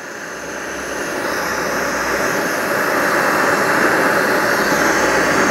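Jetboil Flash and APG hiking stoves burn gas side by side with a loud, steady roaring hiss that swells slightly as the flames build, with no voices.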